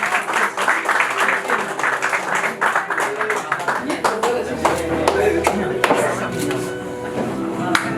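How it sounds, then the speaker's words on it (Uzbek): An audience at a certificate and diploma ceremony for an academy opening claps in a dense, sustained burst of applause, close and lively, with voices talking over it. "eng baland olqishlar bilan biz kutib qolamiz"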